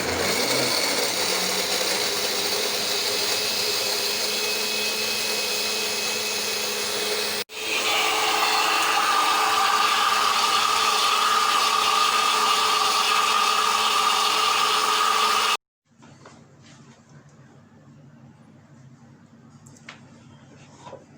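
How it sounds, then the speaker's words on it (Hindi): Blender running continuously on a mango sorbet mixture, a loud, steady motor whir that shifts pitch midway and then drops to a quieter hum near the end, with no talking. "Now I blend it well."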